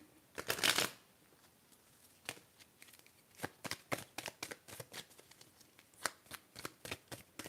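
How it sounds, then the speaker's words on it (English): Tarot cards shuffle in a quick riffle up close, then a long run of soft, evenly spaced slaps and flicks as cards are handled and drawn in a quiet setting. "So we'll get 3 of these cards."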